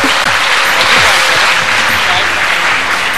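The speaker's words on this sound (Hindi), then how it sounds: "तालियां बजाइए जोरदार।" A studio audience on a Ramadan TV game show claps loudly and continuously, a dense wash of applause with a voice running underneath.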